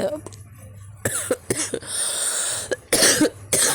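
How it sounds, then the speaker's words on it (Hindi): A woman coughs repeatedly in short, harsh bursts with a sore throat, loud and close, during a home kitchen cooking session with a tawa. Brief throat sounds and pauses fall between the coughs. "गाइस मुझे इतनी खांसी हो रही है"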